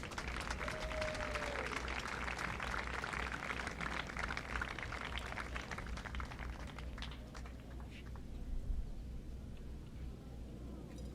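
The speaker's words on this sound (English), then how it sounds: "let's give it a warm welcome and applause for Maddie Larson and Oliver Walseth." An audience at an outdoor tennis tournament claps for the runners-up. The applause sounds moderately distant and steady, then thins out toward the end.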